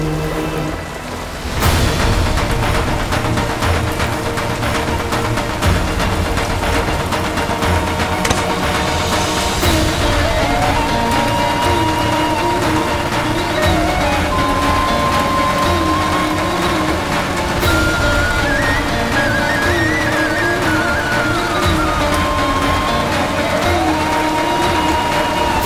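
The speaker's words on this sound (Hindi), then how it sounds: "बारिश तो बहुत भयानक है।" Heavy rain pours steadily and loudly throughout, a dense continuous wash, with a melodic drama soundtrack playing over it.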